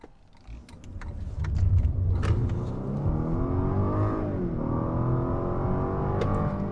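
A 2021 Lexus LS 500 luxury sedan with a 3.5-liter engine accelerating, a smooth rising engine hum with climbing gear pitches heard from inside the cabin, steady and moderately loud.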